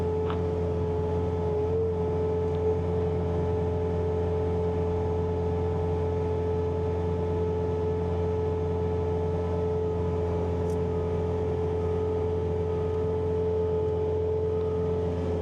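Bobcat T66 track loader running a snowblower attachment, clearing snow in front of a car: a steady, loud engine and blower drone with strong tonal hum, unbroken and unchanging throughout, no voices.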